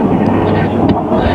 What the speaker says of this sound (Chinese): 不断有直升机从后方赶来支援步兵行动，超低空从后方制高点这里飞过